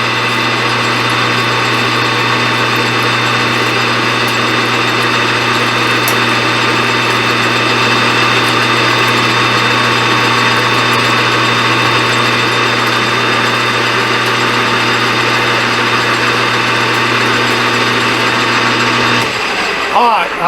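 A machine tool takes a steady cut on a carburetor breather stud, giving a constant loud, close whine with a fixed pitch that runs for about nineteen seconds before it stops.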